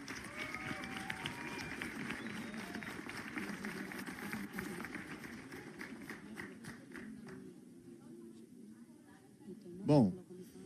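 A dense wash of audience applause fills a hall at an extraordinary congress of the PT youth in Curitiba, honouring the LGBT plenary letter, with crowd murmur and voices mixed in before it thins out near the end.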